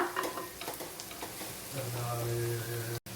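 Ingredients for egg fried rice sauté in a pan with a steady close sizzle and frying hiss, punctuated by quick stirring scrapes and a brief spatula knock near the end.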